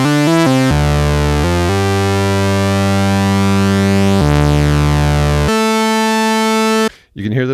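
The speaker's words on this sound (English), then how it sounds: "Right now I have it set to these 2 sawtooth shaped waves." Two analog sawtooth oscillators on a Dreadbox Typhon synthesizer drone together in a loud, buzzy sustained tone, slowly phasing and beating against each other as the pitch steps change, then cutting off abruptly near the end.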